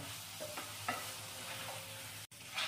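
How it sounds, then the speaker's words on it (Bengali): Marinated chicken dropped into onions fried reddish-brown in a pan, a soft steady sizzle with faint stirring scrapes, close but quiet, with a brief cut near the end. "পেঁয়াজটা লালচে করে ভাজা হওয়ার পর ম্যারিনেট করা চিকেনটা আমি এখানে দিয়ে দিলাম"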